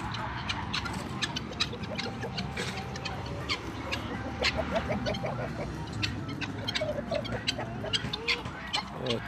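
Several chickens and five roosters on a Turkish farm cluck and call in a busy, overlapping chorus of short vocal bursts, fairly close and steady throughout.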